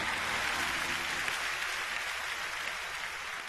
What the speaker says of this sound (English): Come on, clap your hands and give God some praise.